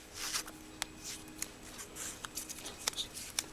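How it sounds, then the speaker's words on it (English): Masking tape pulled and pressed onto a plain piece of aluminum: soft crackling, ripping and rubbing sounds with a few sharper ticks, close and quiet. "I'm going to mask off half of it with tape"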